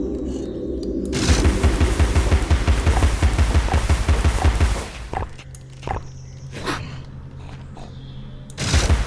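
Rapid gunfire from the video game Alice: Madness Returns, a loud sustained burst of fast repeated shots with booming low thumps, then a pause with a few scattered hits and another burst at the end.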